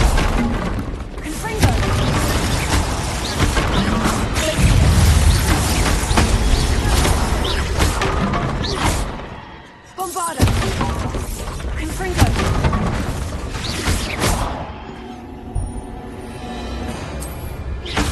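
Repeated Confringo explosive spell blasts in Hogwarts Legacy, loud booming and crashing impacts one after another over dense game effects, with a short quiet gap midway.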